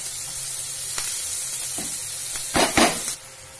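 Prawns cooking with spices in a pan, a steady sizzle with a few louder scraping stirs near the end before the sound drops off.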